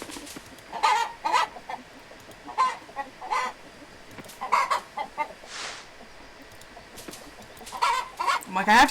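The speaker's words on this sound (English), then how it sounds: "I have to get all the chickens before they bunch up on each other." Chickens in the Coral Island farming game, clucking in short repeated bursts at a moderate level, several birds calling in uneven rhythm against a soft background.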